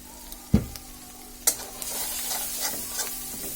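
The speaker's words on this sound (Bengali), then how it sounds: "এটাকে আমি ভালোভাবে নেড়ে দিচ্ছি।" Macaroni being stirred with oyster sauce in a pan, a few distinct scrapes and knocks of the utensil over a soft, steady sizzle, close and fairly quiet.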